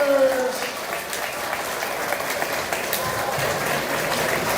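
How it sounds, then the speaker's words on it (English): Sustained applause fills the hall at an elementary school quarterly awards ceremony, a dense wash of clapping from the audience that carries on steadily after a brief voice at the start. "Give them a round of applause for our 30 Vikings Heart of Owners."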